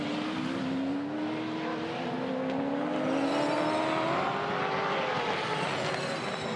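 Anton's yellow DeWalt Team 18 Camaro Supercar races at the Townsville street circuit. The V8 engine note climbs steadily through the gears as a loud, sustained roar, with no speech over it.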